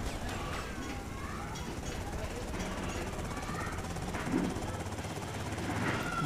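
A helicopter in GTA Vice City gameplay produces a continuous, steady rotor and engine drone that fills the scene at even loudness throughout, with a clattering, jackhammer-like texture and a brief clink near the end.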